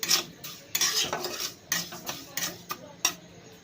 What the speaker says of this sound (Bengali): এইটাকে এখন নাড়তে হবে